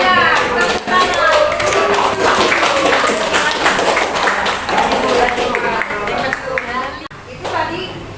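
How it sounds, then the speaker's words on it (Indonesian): Classroom applause fills the room, a dense run of clapping from students that carries on for several seconds, with children's voices mixed in and a few thumps. "Tepuk tangan."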